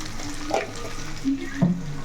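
Chicken pieces fry in a kadai with a low, steady sizzle, broken by a few brief stirring scrapes and clacks.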